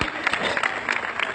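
An audience at a Lashari community gathering claps for the Sardar, a steady dense patter of many hands with small surges, filling the short stretch near and fairly loud.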